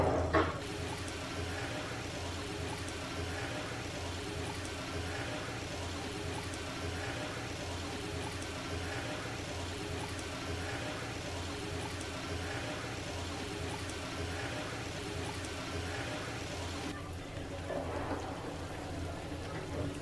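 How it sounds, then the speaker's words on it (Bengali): Small balls of Kerala-style snack dough deep-fry in hot oil: a continuous, dense sizzle and bubbling hiss, steady and close throughout, easing slightly near the end. "একটা কাঠি দিয়ে গরম তেলের মধ্যে দিলে চারিদিকে বাবল উঠলে বুঝতে পারবেন যে এটা নাস্তাটা ফ্রাই করার জন্য রেডি হয়ে গেছে"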